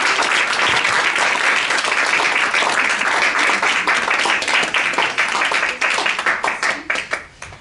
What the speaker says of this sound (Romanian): Vă rog să le aplaudați.